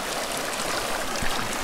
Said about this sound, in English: it's right next to the river